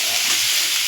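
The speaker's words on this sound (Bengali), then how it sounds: "এবার আমি গ্যাসটাকে একটু বাড়িয়ে খোলা অবস্থায় ভালো করে ভেজে নেব" Vegetables for a rohu fish curry frying in an open pan over a raised flame, a dense, even hiss of hot oil heard close and loud for a brief moment, with no talking.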